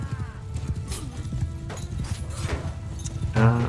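Horse hooves clip-clop in a rhythmic run amid a battle in Mount & Blade 2: Bannerlord. A horse whinnies near the end, over steady low battle noise.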